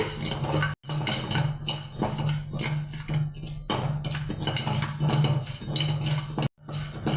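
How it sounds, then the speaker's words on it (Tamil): Cumin seeds dry-roasting in a pan for a curry spice mix, with continuous close scraping and rattling of a ladle stirring against metal, brief pauses between strokes and no talk. "இப்போ சீரகத்தை நம்ம நல்லா வறுத்து எடுத்துடலாங்க."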